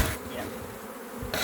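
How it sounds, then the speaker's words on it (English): Honeybees buzz in a dense, close swarm as they are shaken into a hive during an artificial swarm, a continuous droning hum lasting the brief moment without speech. "shaking a few more bees in"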